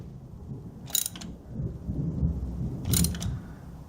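A ratchet loosens a spark plug on an R56 Mini Cooper S in two short bursts of quick clicking, about two seconds apart, over a low background rumble.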